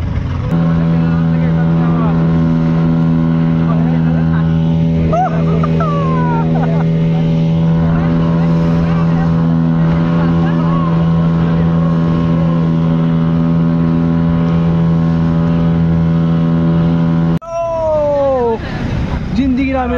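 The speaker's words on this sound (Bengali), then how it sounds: "আমাদের ইঞ্জিন শুরু হচ্ছে আস্তে আস্তে।" A speedboat engine runs out at sea off Digha beach, giving a steady, loud motor drone throughout, with people talking over it.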